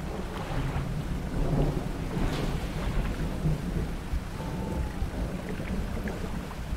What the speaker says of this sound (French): L'orage.